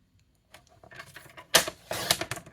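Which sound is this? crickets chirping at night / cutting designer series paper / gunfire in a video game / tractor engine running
cutting designer series paper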